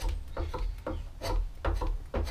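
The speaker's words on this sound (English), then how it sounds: "I am going back to the spoke shave and just" A spokeshave shaves material off the wooden leg of a three-legged stool in firm, rasping strokes, roughly six passes in uneven rhythm, close and fairly loud.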